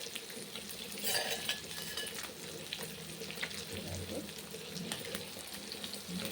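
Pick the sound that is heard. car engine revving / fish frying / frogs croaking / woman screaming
fish frying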